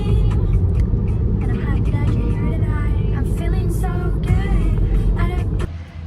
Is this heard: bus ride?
yes